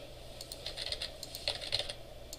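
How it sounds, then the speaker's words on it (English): Computer keyboard keys typed in a quick, uneven burst of light clicks, close and fairly quiet, with no voices. "So I'll go here and I'll just type in"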